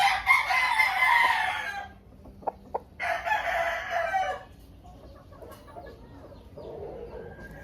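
A Maclean gamefowl rooster crows loudly twice, each long call close by, with soft background noise and a faint distant crow in between.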